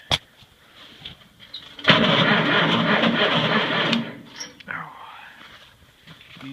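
A car engine with the choke on, cranking slowly on a weak battery connection in cold weather, grinds in a steady, sluggish churn for about two seconds and then stops, with a brief click before it and faint rustling after.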